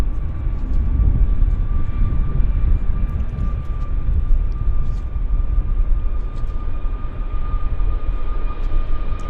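A Boeing 747-100 passenger jet at Vancouver airport rolls for takeoff, a loud, steady jet roar with a constant high whine heard from nearby, holding level throughout.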